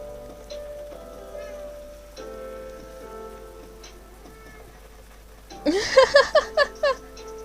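A cat meows several times in a quick, loud run of short calls near the end, standing out clearly over a faint steady background.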